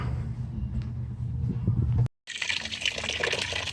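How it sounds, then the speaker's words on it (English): Water pours onto newly planted tomato plants in a steady close splashing gush, cuts out for a moment, then resumes with a brighter, hissing spray. "So I'm just watering these in as Laura gets the cages together."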